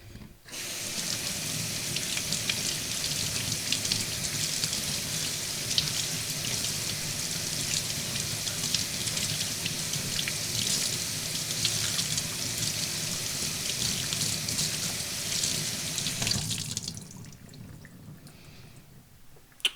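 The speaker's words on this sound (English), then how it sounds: "Oh yeah, rinse before use." Fresh sage rinsed under a running kitchen tap, a steady close hiss of flowing water splashing into the sink for about sixteen seconds before the tap is shut off, no talk.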